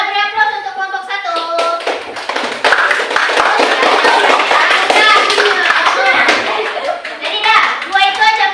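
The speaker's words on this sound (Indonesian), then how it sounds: "beri aplaus untuk kelompok 1" A school class gives group 1 a round of applause: many hands clap in a dense, continuous patter, with children's voices calling out over it.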